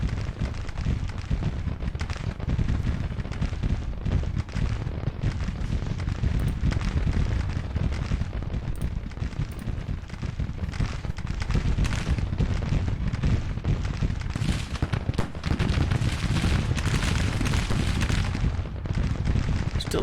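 Dense, continuous battlefield rumble of massed Civil War artillery fire in the strategy game Grand Tactician: The Civil War, with booms blending into a steady roar throughout and no voices.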